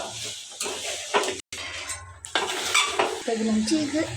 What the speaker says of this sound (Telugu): సాల్ట్ వేసి 2 స్పూన్స్ కలపాలి.